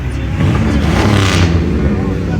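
A car engine revving loudly at a Chicago street car meet, a sustained roaring rev with crowd voices shouting over it at close range.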